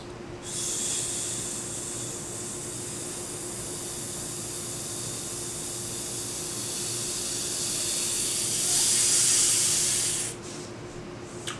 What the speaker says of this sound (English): probably hear that I accelerated my breath in the very end